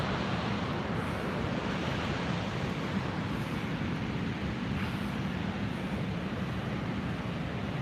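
A constant, heavy roar of rushing water from Niagara Falls, broad and unbroken, heard close by, with no voices.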